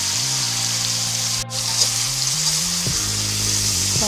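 Shredded cabbage and soy sauce frying in a hot pan for a togue stir-fry, giving a steady close sizzle with a brief stirring scrape partway through.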